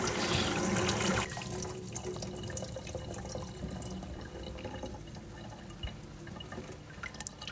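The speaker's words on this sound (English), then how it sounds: "So by rinsing the rice one more time before adding it into the pot." Rice being rinsed in water in a pot or bowl while preparing Nigerian ofada rice: a close, steady watery swishing and dripping, loudest in the first second, then softer sloshing with no talk.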